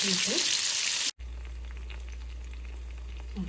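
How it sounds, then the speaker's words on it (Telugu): Eggplant and curry leaves cook in a covered pan over low heat: a bright sizzling hiss for about a second, then a quieter, steady simmer over a low hum. "లో హీట్లో పెట్టేసేసి మూత పెట్టేసి వీటిని మగ్గిస్తున్నాము."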